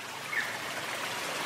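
A river stream flows steadily with a soft, continuous trickle of water, faint and alone with no voices.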